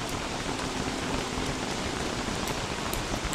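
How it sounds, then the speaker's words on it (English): Rain falling in the game Don't Starve, a steady dense hiss of drops on surfaces, even and continuous, with no voices. "Apparently, rain can last longer than what we've seen so far."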